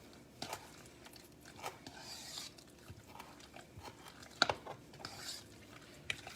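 A spoon stirs egg salad with chopped boiled eggs in a bowl, giving soft, quiet scraping and irregular clinks against the bowl.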